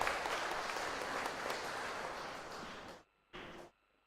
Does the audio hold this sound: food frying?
no